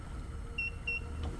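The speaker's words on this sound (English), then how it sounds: "Is that the polisher beeping because it's trying to polish junk?" A polisher machine in the mining game MineMogul emits two short, high electronic beeps about a third of a second apart over a low steady machinery hum.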